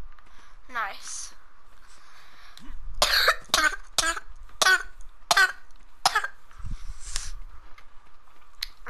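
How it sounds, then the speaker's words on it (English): A person with a bad cough hacks repeatedly during an ARK: Survival Evolved Ragnarok session, a rapid series of six or seven loud, harsh, close coughs in a burst, with a little throat noise and game sound around them. "I'm sorry, I just have a bad cough."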